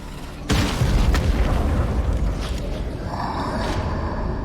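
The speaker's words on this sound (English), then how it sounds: "Throw a grenade." A grenade goes off in a video game, a sudden loud, deep boom followed by a rumbling tail that lingers for several seconds.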